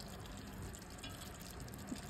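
A steady, close pour of hot water into chicken sauce on the stove, continuous liquid rushing and filling for about two seconds with faint splashes, no talking.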